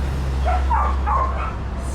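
Dogs barking and yipping at a middle distance in short bursts over a steady low hum, with no one talking.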